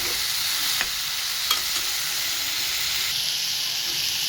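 Dried fish (sukat) fries and is stirred in a hot pan, a continuous close bright sizzle and hiss with a few scraping clicks from the stirring spoon.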